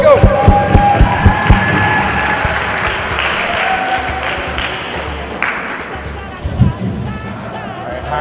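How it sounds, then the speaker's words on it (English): Audience at a school Diversity Day stage show applauds and cheers as two student hosts are introduced, a loud, dense crowd roar of clapping and shouts filling the whole stretch, with voices talking over it. "So give them a round of applause."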